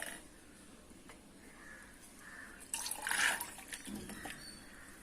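Water trickles and drips out of soaked green gram tipped into a kitchen strainer, with a faint patter that swells into a brief louder splash midway and then settles again. No one speaks.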